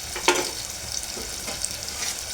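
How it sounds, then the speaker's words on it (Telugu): Onions frying in a heated clay pot, a steady close sizzle with a few sharp crackles and pops, no voices. "ఆనియన్ కొంచెము మనకి ఫ్రై అవ్వాలి."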